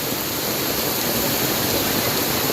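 Flooded river rushing after heavy rain, carrying floating wood along a farm, with a steady, dense wash of water noise throughout and no voices.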